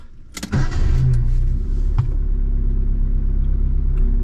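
A car engine cranks and catches, then settles into a steady, loud idle rumble close by, with no talking.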